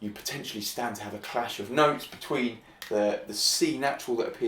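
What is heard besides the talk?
No everyday noises stand out.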